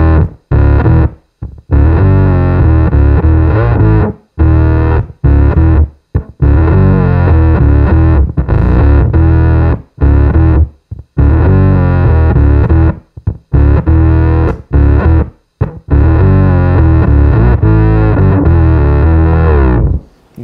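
Electro Harmonix Bass Micro Synthesizer pedal producing a thick, distorted sub-octave synth bass tone, loud and continuous in sustained phrases broken by short gaps, with no talking.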